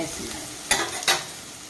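Ginger garlic paste, onions and green chillies fry in a pan, a soft sizzle cut by two quick, loud scraping stirs close by, with no talking.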